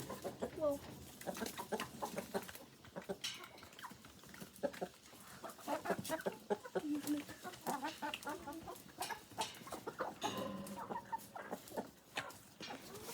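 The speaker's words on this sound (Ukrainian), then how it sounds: "От півень." Chickens cluck and squawk close by in a busy flock, with a rooster calling among them and people talking intermittently.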